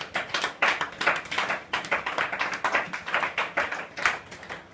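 A church congregation claps together in a long, lively burst of applause, the many overlapping hand claps forming a dense, uneven rhythm that fills the room.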